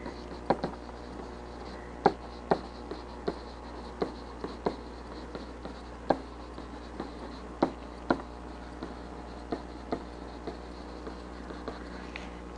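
A pen scratches out numbers on paper or a board in short strokes with occasional sharp taps, at an irregular pace over a quiet, low hum and without speech.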